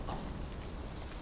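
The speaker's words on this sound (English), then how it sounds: "it's raining" Rainfall in the video game Final Fantasy 7 Rebirth, a soft, even broadband hiss of falling rain, quiet and steady over a brief moment with no voices.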